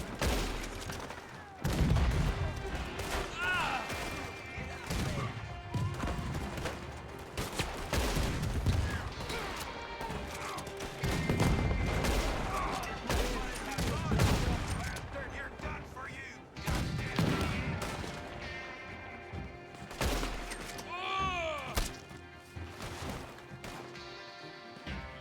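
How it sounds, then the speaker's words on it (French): Sniper rifle gunfire in a video game, a run of sharp loud shots and bursts scattered across the stretch, with players talking over the shooting. "c'est pour pratiquer avec un sniper hein"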